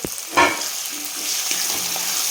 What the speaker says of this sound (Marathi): त्याला पण आपण तेलामध्ये चांगलं परतून घेणार आहे